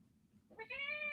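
A cat gives a single drawn-out meow, close and clear, rising and holding at the end after a brief quiet moment.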